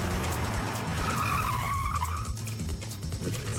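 A Tesla's tires skid and squeal loudly as the car is slid around, a close, sustained scrub of rubber over a low motor rumble.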